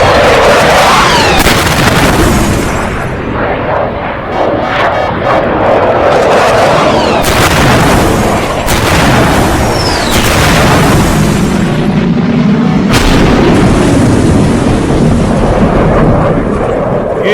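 Heavy booms and bursts of missile explosions from a fighter-jet airstrike on a vehicle, loud and close, with repeated blasts and rumbling over a continuous roar of jet noise.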